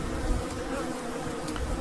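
Honeybees buzz thickly at a feeder, a dense, constant swarm drone close by with no pauses and no voices.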